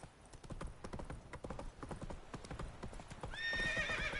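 Roach, a horse in The Witcher 3, gallops in rapid rhythmic clip-clop hoofbeats, then lets out a high whinny over the final second.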